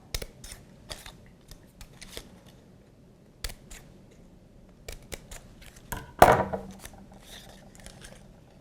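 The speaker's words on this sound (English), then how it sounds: "just create little V snips all the way across your card, about 3/4 of the way down where those embossed lines are." Scissors make a few sparse, light snips while cutting small V notches across a sheet of embossed card for a refillable advent calendar box, with one sharper, louder cut near the end and quiet gaps between.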